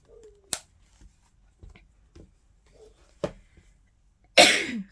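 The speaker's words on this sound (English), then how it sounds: "that cough actually took a while." A single sharp cough rings out, followed by faint clicks and shuffles, then a louder burst of coughing near the end.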